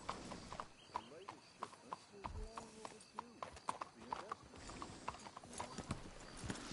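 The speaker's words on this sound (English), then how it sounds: "Let's hitch the horses up ahead." Steady clip-clop of horse hooves at a walking rhythm in the video game Red Dead 2, close and crisp, with creaking tack and low voices talking over it.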